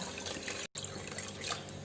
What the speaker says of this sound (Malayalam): ഇനി ഇതിലേക്ക് 4 കപ്പ് വെള്ളം ഒഴിച്ചു കൊടുക്കാം.